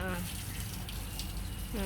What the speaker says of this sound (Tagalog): Pinaliguan si Ligaya.